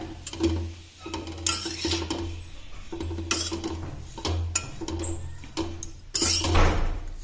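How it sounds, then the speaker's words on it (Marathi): Grated coconut roasting in a pan while a spatula scrapes and stirs it, making repeated close scraping strokes with light metallic clinks over a low steady hum. "हे किसलेलं खोबरं भाजून घ्यायचं आहे।"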